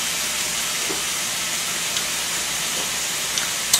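Pork belly and kimchi sizzle in rendered fat in a pan. The hiss is loud, steady and unbroken, with a few faint pops near the end.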